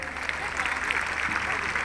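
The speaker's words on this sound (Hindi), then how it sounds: "आपकी तालियां बजती जानी चाहिए।" An audience claps at the opening ceremony of a girls' inter-district athletics meet, brief, moderately loud applause heard under a speaking voice.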